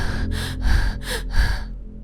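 A frightened boy pants heavily after running, with five or six quick, loud, breathy gasps in a steady rhythm close up, then a brief pause, with no words spoken.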